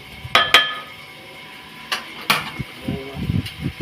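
Masala spices being stirred into pulao in a metal pot, with a few sharp clangs of the spoon against the pot and softer scraping knocks spaced out over a few seconds.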